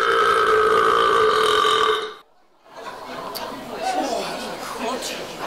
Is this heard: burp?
yes